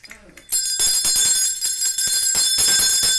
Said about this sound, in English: Yeah, you got a bell ring on this one.